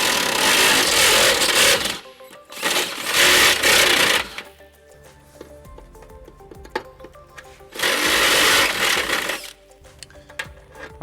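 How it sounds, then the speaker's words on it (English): A power drill with a step bit bores and widens a hole in the metal of a 2011 Nissan Altima during trailer hitch installation, in three loud grinding bursts separated by quieter pauses with tool clatter. "to enlarge that hole, we're going to use our step bit. Now, as we drill it"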